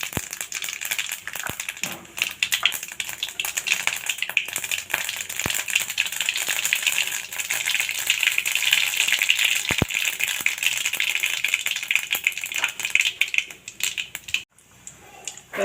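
Mustard and cumin seeds splutter in hot oil for tempering a vegetable dish, a dense, loud crackle of rapid pops that runs on steadily and drops away briefly near the end.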